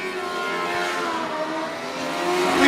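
Racing bikes and quads come down the first straightaway, engines revving up in a rising, tonal whine that swells louder toward the end as they close in, with no voice over them.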